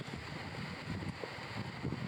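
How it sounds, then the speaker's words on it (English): Steady wind rushes and buffets outdoors, a continuous low roar with occasional gusts hitting the microphone, no voices. "It's still windy. It's still cold in the mid-50s."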